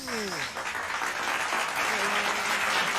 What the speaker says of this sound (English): How about a nice big round of applause for Star Burrito?